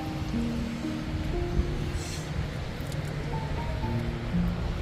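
Sea waves at Bagasbas beach wash in as a steady, broad surf roar that holds at an even level throughout, with faint tonal hums mixed in and no voices.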